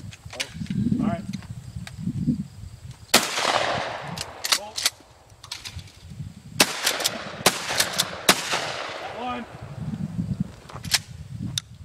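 Sharp gunshots crack out at an outdoor shooting range, some single and some in quick clusters, loud and close, with people talking between the shots.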